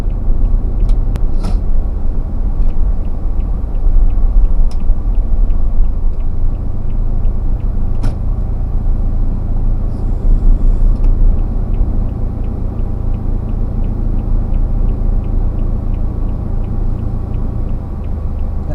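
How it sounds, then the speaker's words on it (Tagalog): Heavy road traffic crawls out of Ayala, a continuous low rumble of idling and slowly moving vehicles nearby, with occasional faint clicks and brief higher noises over the steady drone. "Traffic na po dito sa palabas na po ng Ayala."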